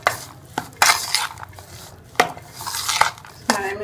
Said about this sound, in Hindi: ये लेमन जूस, ये सारे मसाले इसमें डाल के इसको हम मिक्स कर लेंगे